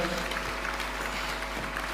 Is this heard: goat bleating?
no